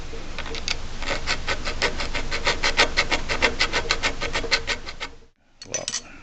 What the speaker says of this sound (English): filed a little bit more off, put more depth on it right there